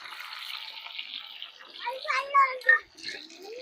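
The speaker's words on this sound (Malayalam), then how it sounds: "ഉപ്പും മഞ്ഞപ്പൊടിയും പാടെ മിക്സ് ചെയ്തതാട്ടോ ഈ വെള്ളം ഒഴിച്ച് കൊടുക്കുന്നു" A hiss rises as water mixed with salt and turmeric is poured into hot oil in a home kitchen. Voices talk over the later part.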